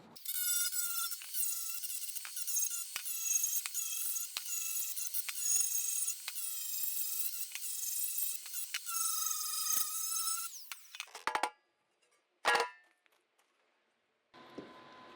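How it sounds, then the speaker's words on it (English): A surface conditioning pad on a power tool scuffs over the corners of a steel wall planter, a steady high whirring abrasion for about ten seconds, then brief scrapes and a short burst of grinding. "I've got a Pferd Combi Click surface conditioning pad on there, and I'm just going to kind of scuff back over these corners"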